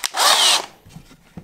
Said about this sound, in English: you can then, you know, drill your hole right through